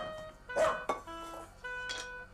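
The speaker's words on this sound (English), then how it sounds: "He feeds Freddie, his dog." A dog's short barks in an English story scene, a few separate yips over faint background music, fairly close.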